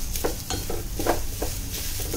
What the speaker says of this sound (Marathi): आता हे छान लालसर रंग येईपर्यंत आपल्याला परतायचं आहे.